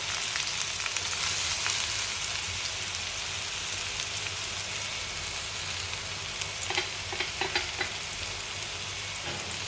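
Curry leaves and spices frying in a pan for a Kerala long-bean stir-fry, with a steady, close, dense sizzle and crackle that runs the whole time, plus a few sharper pops near the end.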